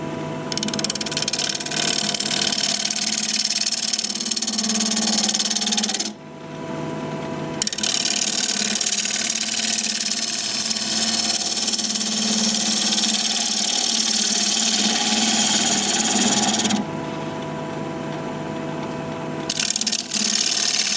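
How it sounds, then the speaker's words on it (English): A 5/8 inch bowl gouge cuts a spinning black cherry bowl on a wood lathe at 1100 RPM, making a loud, continuous rushing scrape with a low hum that breaks off briefly twice. "We're going to be turning at 1100 RPM, 5/8 inch standard grind bowl gouge"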